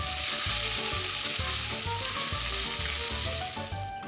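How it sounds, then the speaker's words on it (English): Crushed ginger, garlic and green chillies sizzle in olive oil and butter, a loud, continuous close frying hiss with stirring scrapes and clinks throughout. "Into some olive oil and a bit of butter, I sauteed crushed ginger, garlic and green chillies until that raw smell faded."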